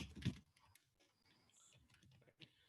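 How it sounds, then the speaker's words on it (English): Computer keyboard typing: a loud, close burst of keystrokes at the start, then scattered faint clicks against a quiet background. "sorry, my keyboard."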